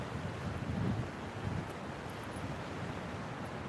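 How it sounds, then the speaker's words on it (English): A fast, swollen river with big rapids runs high near a lookout, giving a steady broadband roar throughout with a slight swell near the start, no voices. "The river's really up. There's big rapids. It's really fast."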